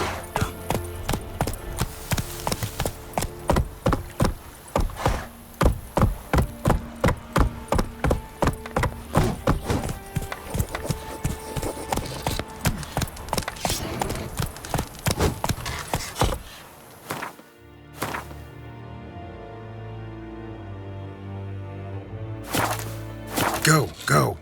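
Horse galloping in The Witcher game, with rapid rhythmic clip-clop hooves on hard ground, loud and close, then slowing and stopping, with a rider's shouts and game effects over it.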